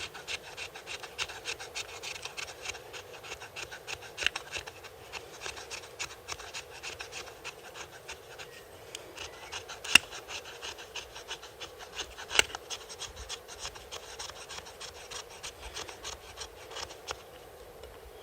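Fatwood being scraped to raise resinous shavings: a quiet, repeated rasping with short, even strokes in a steady rhythm, and a couple of sharper clicks along the way.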